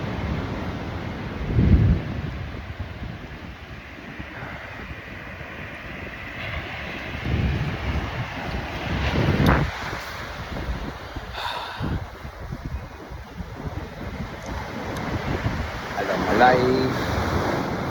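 Waves and wind at Bluff Beach in Bocas del Toro, Panama, make a steady roaring wash with periodic louder surges of surf and gusty microphone rumble during a beach walk.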